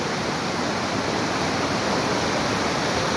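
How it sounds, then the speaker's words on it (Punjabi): A fast mountain stream in Himachal Pradesh rushes steadily, its dense, even roar of tumbling water loud and close throughout, with no voices. "ਇਹਦਾ ਭਈਆ ਪਾਣੀ ਦਾ ਖੜਕਾ ਹੀ ਆ ਸਾਰਾ"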